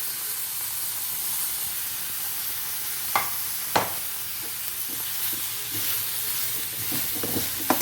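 Lemon pieces for a lemon curry sizzle and fry in a pan with a continuous hiss, broken by a few sharp clinks and scrapes of stirring near the middle and end.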